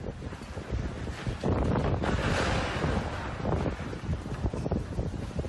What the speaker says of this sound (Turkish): İstanbul'u şiddetli fırtına adeta vurdu.